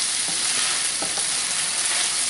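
Fresh corn cut from the cob frying in a pan, browning as a loud, even sizzle that runs steadily throughout with a few faint scrapes beneath.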